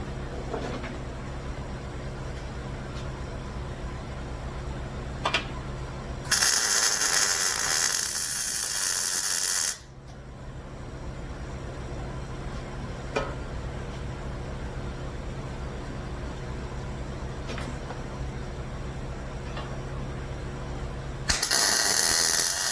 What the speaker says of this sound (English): I'm tacking it from the opposite side